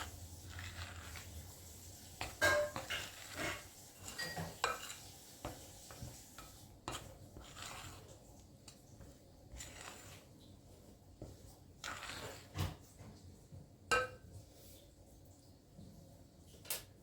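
Dough ingredients of yeast and water being mixed by hand for homemade pita bread, with soft scraping and clinking against a bowl in irregular bursts, fairly close and quiet, no talk.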